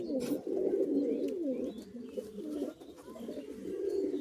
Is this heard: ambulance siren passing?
no